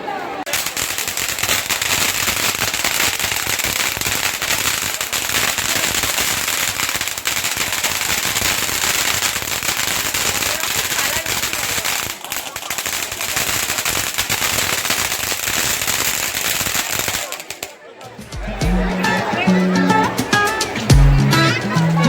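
Firecrackers burst at a village fair in rapid, crackling strings of sharp pops, nearby and loud, going on for most of the stretch before a few heavier, separate bangs near the end. People talk in the background.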